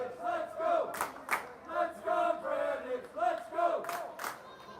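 Crowd at an 18U water polo game cheering and chanting loudly in repeated rhythmic bursts, with a few sharp shouts standing out.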